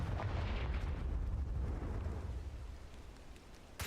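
A Confringo fire spell blasts in a Harry Potter video game, a heavy rumbling explosion that booms loudly and then slowly fades, ending with a sharp click.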